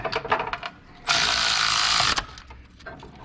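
A ratchet tightens a water pump bolt on a 1988 Ford Ranger with a 2.9L engine, giving one sustained, close burst of rapid clicking that lasts about a second amid quieter shop handling noises.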